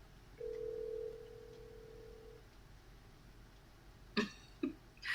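A phone call being placed during a livestream: a steady outgoing ring tone holds for about two seconds, quiet and alone, followed by a couple of short clicks and bumps.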